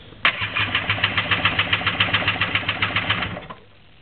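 A Kawasaki 650 jet ski engine cranks on its starter during a compression test, chugging in a fast, even rhythm of strong pulses for about three seconds before cutting off abruptly. It sounds loud and close.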